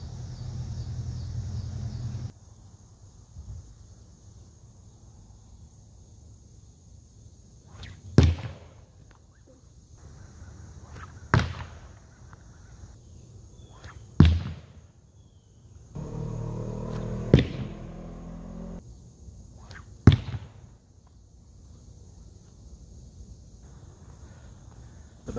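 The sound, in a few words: slung stones striking bone target on board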